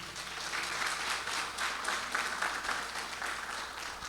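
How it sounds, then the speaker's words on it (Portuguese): A church congregation applauds during a sermon, dense steady clapping from many hands sustained throughout, moderately distant and fairly quiet, with no talking over it. "Vamos aplaudir Jesus por isso?"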